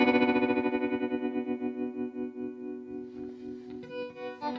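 An electric guitar played through effects, a sustained distorted chord with a rhythmic pulsing modulation that slowly fades while fainter picked notes come in near the end.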